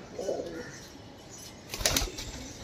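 A female Rajasthani pigeon is let go and takes off, a faint soft coo early on and then a brief burst of flapping wings close by as it flies away.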